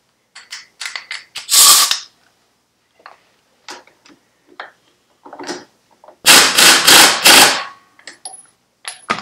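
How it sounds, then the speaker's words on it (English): A 3/8 impact gun gently chattering bolts on a motorcycle shovel primary, in short bursts of rapid rattling hammering between quiet clicks and small metallic handling noises, close and loud. "I'm just going to use the 3/8 gun in a step up. And just gently chatter it"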